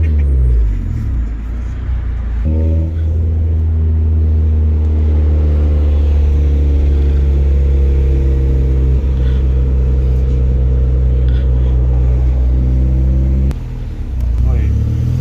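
A small car nicknamed the nugget, freshly fitted with coilovers, revs and lugs through manual-transmission gear changes, its engine rumble loud and steady with pitch shifts at each clutch engagement while people talk inside the cabin.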